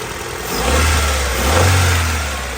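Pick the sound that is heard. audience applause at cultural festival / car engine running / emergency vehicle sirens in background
car engine running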